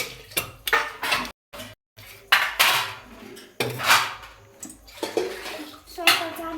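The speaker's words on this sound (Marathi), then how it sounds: "मी भांडे घासते आधी तू भांडे भांडे घासते" Dishes being washed and scrubbed, with irregular clattering of pots and utensils and running water in short bursts, up close, while people talk intermittently.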